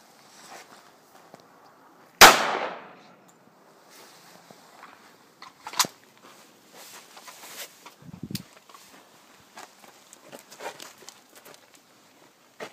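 A single sharp .45 auto pistol shot fired into two stacked school books cracks loudly near the start, followed by quieter scattered knocks, rustling and footsteps.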